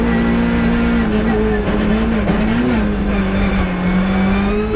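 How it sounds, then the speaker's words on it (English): An Opel Adam R2 rally car at speed on a Tour European Rally stage in Flanders, its engine droning loudly and steadily close by throughout, with slight pitch shifts as it holds revs. "Timo and Rebecca van der Merel are very fast with their Opel Adam R2"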